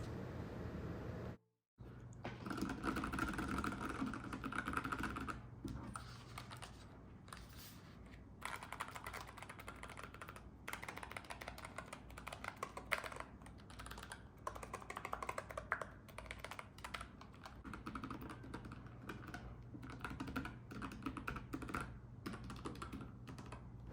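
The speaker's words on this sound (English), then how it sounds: "So I really like the sound of this keyboard." Steady typing on a Keychron K5 V2 mechanical keyboard with brown switches, soft rapid keystrokes in an irregular rhythm, close up, with a faint background hiss and no talking.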